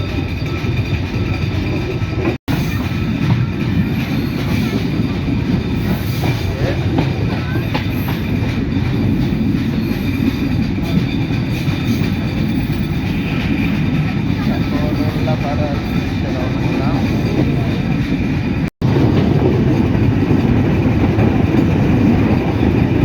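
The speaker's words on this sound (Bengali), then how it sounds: "যে মাঠ দিয়ে আমাদের ঝকঝকাঝক ট্রেন চলছে" Chitra Express running between Khulna and Dhaka across open Bangladeshi fields, a steady loud rumble of wheels and carriages with clickety-clack rhythm heard from inside the moving train for the whole stretch.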